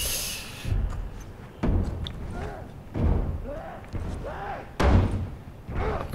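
Heavy banging and slamming against a door in The Last of Us, about six loud, forceful thuds at uneven intervals, each ringing briefly, with low vocal sounds between the blows.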